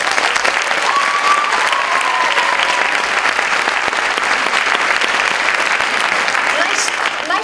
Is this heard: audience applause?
yes